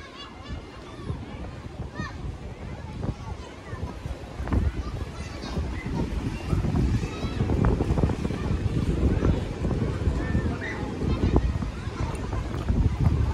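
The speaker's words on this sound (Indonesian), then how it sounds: "Nah, jadi ini suasana di pantainya langsung ya, Pantai Sindangkerta" Wind buffets the microphone over a very crowded Sindangkerta Beach, with a dense murmur of many distant voices, including children, and occasional shouts under the gusts.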